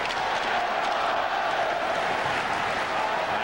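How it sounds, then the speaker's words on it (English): An arena crowd at a 1993 Islanders home playoff hockey game against the Capitals sings and roars, a steady, dense wash of massed voices that stays loud and unbroken throughout. "Well, the crowd started to sing."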